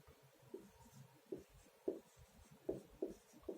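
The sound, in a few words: writing by hand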